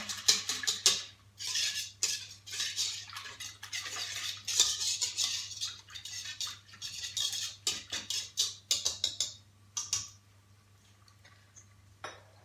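Courgette in a pan with chorizo for a clafoutis, stirred with a utensil. Rhythmic scraping and clinking strokes against the pan come in bursts, with short pauses between them.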